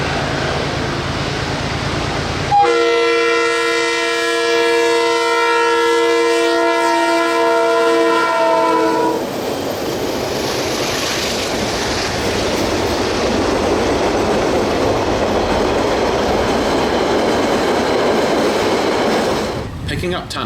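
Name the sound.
DC 4876 locomotive towed behind DXC 5212 and DC 4951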